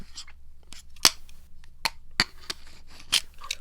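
Scissors cut a tin can along its ridge, giving a handful of sharp, quiet metallic snips spaced irregularly over a near-silent background.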